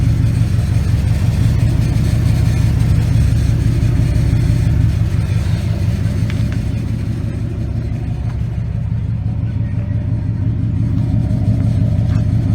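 A 2009 Nissan Titan Pro-4X pickup truck engine idles close by with a deep, steady rumble and a low pulsing exhaust note that barely changes throughout; the exhaust has a small leak.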